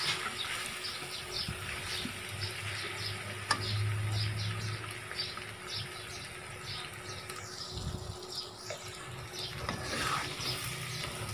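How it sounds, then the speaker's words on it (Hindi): Beef keema sizzles in a pan for stuffed bitter gourds, with a steady moderate frying hiss and repeated scraping and clinking as a spoon stirs it. "इसको हिलाते रहना है ताकि ये नीचे ना लग जाए"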